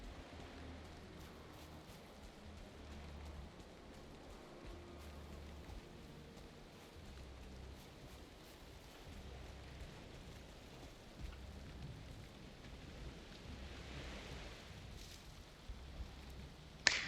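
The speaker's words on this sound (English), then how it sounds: "God, love the rain." Steady rain hisses softly throughout in the game Valheim, with low, distant rumbles of thunder underneath and no voices.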